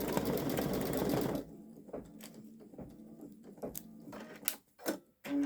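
A Babylock Solaris Vision Journey embroidery machine stitches a fox design into a sweatshirt on medium weight stabilizer, a steady mechanical whir that stops and gives way to scattered clicks and knocks as it pauses and restarts.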